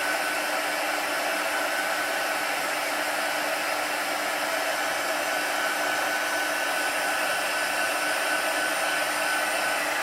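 Heat gun blowing steadily up close while melting embossing powder on a stamped paper box, a constant loud whirring hum of fan and hot air with no break.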